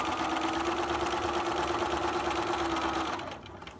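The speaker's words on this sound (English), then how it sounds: "Now I'm going to backstitch." A sewing machine runs steadily while stitching quilt fabric for a butterfly quilt, a close, even whirring hum with rapid rhythmic needle ticking that slows and stops near the end, no talking.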